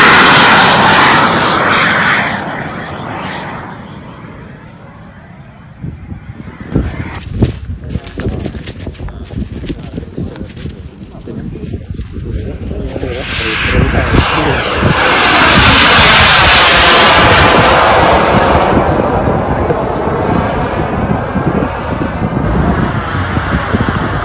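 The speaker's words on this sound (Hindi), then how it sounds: "जेट इंजन लगाया है उसने अपने ड्रोन के अंदर और उसको काफी घातक बनाया है।" A jet-engine-powered Ukrainian drone on a test flight, its loud sustained turbine roar swelling and fading as it passes, with a whine rising toward the end and background noise throughout.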